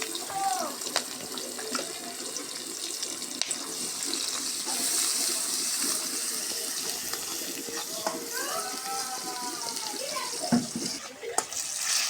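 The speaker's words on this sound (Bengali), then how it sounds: "সামান্য একটু পানি দিয়ে দিলাম, গরম পানি দিয়ে" Hot water poured into a cooking pot during a rustic village-style cooking session with bay leaves, cinnamon and onion, a steady running-water pour that fills most of the stretch, with faint background birdsong and no talk.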